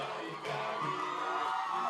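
Kenyan church members lined up along the entrance to the main building of a Nairobi church cheer loudly at an arriving escorted car, a steady wash of crowd cheering and whoops with no clear speech.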